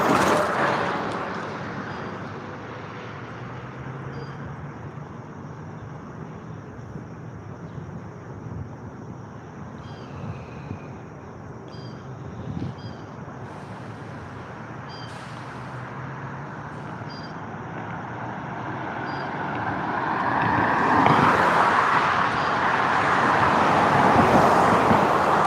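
Cars passing on a road, a steady broadband roar with wind buffeting, building to a louder pass near the end.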